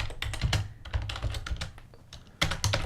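Rapid bursts of computer keyboard typing, close and fairly crisp, with uneven clusters of keystrokes and short pauses between them, no voices.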